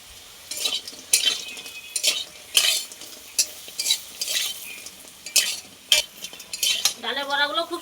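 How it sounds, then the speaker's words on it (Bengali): Lentil fritters frying in hot mustard oil in a wok, with repeated scraping and stirring clatters of a utensil over a soft sizzle, and a brief tonal squeak near the end. "এইবার আমি ডালের বড়াগুলো ভেজে নেব ছোট ছোট করে।"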